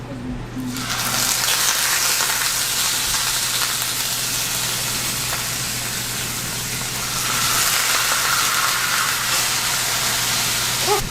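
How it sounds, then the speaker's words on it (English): Real butter sizzles loudly in a very hot cast iron pan, a dense continuous hiss that flares up again partway through, with a low steady hum underneath. "getting a good cast iron pan super hot enough to where when you put real butter in it, it takes off"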